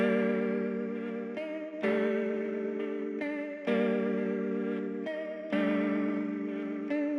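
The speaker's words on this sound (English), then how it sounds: "So here's the guitar after processing." Sustained guitar chords ring out with a wavering, detuned wobble and washy reverb, changing every couple of seconds in a slow repeating pattern.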